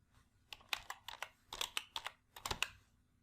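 Keys clatter on a computer keyboard while a cell function is entered in a spreadsheet, with quick bursts of close, crisp clicks in uneven clusters separated by brief pauses, no voices.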